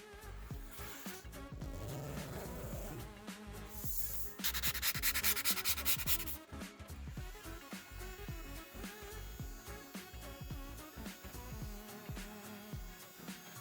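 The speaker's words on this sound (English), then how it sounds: "Just a bunch of menial sanding." A cardboard fantasy jungle sword is hand sanded in steady back-and-forth rubbing strokes, close and fairly quiet, with one brief harsher, louder burst of scraping partway through.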